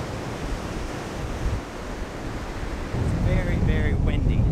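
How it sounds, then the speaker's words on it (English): Ocean waves crash against rocks on a windy Australian beach, a broad continuous roar of surf with wind buffeting the microphone, swelling louder partway through, with a few faint bird calls near the end. "there's some waves that are crashing up pretty high on the rocks over there"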